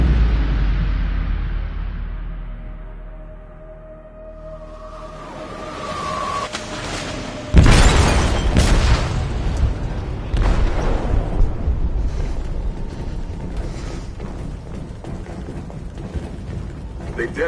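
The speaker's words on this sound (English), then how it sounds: "They detonated an explosive in the hold." An explosive detonates in a ship's hold in a video game, with a sudden loud boom that breaks the quieter ambience and is followed by sustained rumbling, crackling and noise, while a voice speaks faintly beneath.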